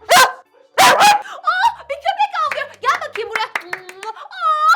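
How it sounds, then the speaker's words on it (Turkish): Two loud, sharp dog barks open the clip, followed by excited talking voices over a quiet background. "dur dur baksana bu köpek o köpek değil mi?"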